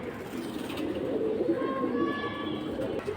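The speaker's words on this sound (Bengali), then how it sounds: "এই দেখেন অনেক কবুতর" Pigeons cooing at a pigeon market, a steady low murmur of many birds filling the scene throughout, with faint higher chirps and tonal calls layered over the crowded cooing.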